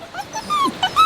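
Puppies whimpering close by, a quick string of high, thin whines and squeaky yips with rising and falling pitch.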